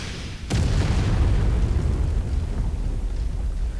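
Artillery shells explode in the video game Mechwarrior 5 Mercenaries: a sharp, loud blast hits suddenly, then gives way to a heavy, sustained rumble of booming impacts that continues to the end.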